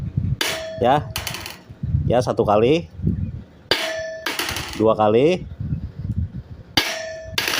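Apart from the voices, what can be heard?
hammer dropped onto hardened sawmill saw blade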